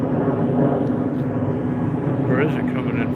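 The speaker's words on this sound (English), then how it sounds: "Southwest jet coming in for a landing." A Southwest passenger jet passes overhead on its landing approach at night near the Sphere in Las Vegas, a steady droning engine roar that holds throughout, with a person talking over it.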